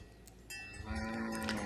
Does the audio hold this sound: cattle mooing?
yes